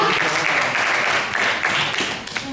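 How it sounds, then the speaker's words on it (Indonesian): Seminar audience clapping, a dense, steady patter of many hands filling the room at close range and holding loud throughout before tapering slightly at the end. "tepuk tangan dulu untuk kita"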